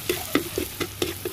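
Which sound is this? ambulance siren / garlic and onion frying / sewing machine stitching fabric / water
garlic and onion frying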